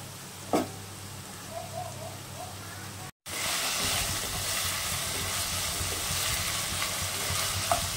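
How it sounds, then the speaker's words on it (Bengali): Potatoes and green peas frying and being stirred in a wok for oats pulao, a steady hissing sizzle that jumps louder after a brief dropout, with faint scraping. "সবগুলো একটু ভাজা ভাজা হবে।"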